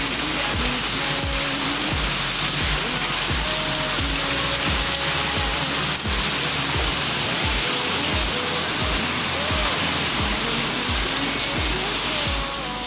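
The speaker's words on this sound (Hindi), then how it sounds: "देखिए ये पानी, छत का पानी ये बालकनी से होकर के इस नाली से बाहर निकलता" Roof rainwater drains through a balcony drain during heavy rain. It makes a constant close rushing wash with a regular ticking or clicking pulse running through it, and no voices.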